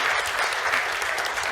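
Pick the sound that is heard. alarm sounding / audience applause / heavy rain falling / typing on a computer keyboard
audience applause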